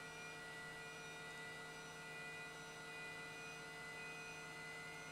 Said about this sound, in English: I think we have engine start